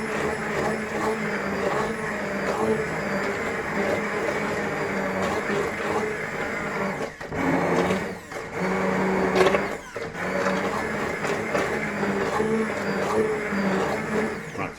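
A blender works through thick mushroom and onion soup, straining under the load in a steady, loud whirring grind that briefly dips and surges twice before running on.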